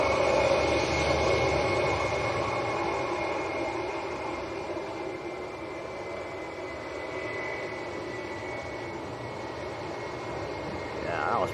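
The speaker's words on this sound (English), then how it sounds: "Two spectacular landings by both Lauda and Whiz tonight." Airliner braking after landing at Leeds Bradford Airport, a loud sustained broadband jet roar with a steady whine above it, easing slightly as the aircraft slows, heard from a spotting position with no clear talk.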